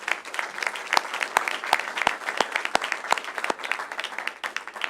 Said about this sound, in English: give them a round of applause for all the things that they do.